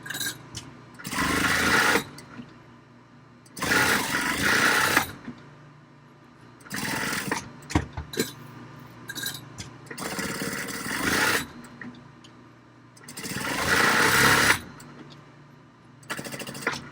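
A sewing machine stitches the seams of a fabric project bag in several loud, close runs of rapid mechanical whirring, separated by short pauses.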